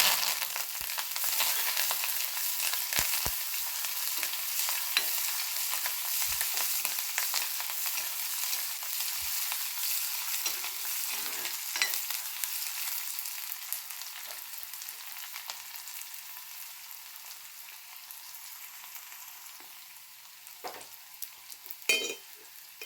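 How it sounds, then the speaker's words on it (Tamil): Vadagam, chopped onion and curry leaves sizzle and crackle steadily in hot oil, a dense close frying hiss with occasional pops and a brief stir near the end. "எண்ணெய் காஞ்சோடனே வடகம் போட்டு தாளிச்சிக்கலாம்"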